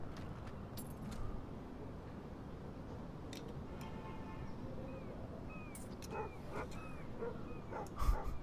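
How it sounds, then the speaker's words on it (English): A dog in the video game Life is Strange barks and yips a few times at moderate distance over a steady ambient bed, with a whimpering, chirpy tone and a louder burst near the end. "Frank's like, hey, why's my dog out of my RV"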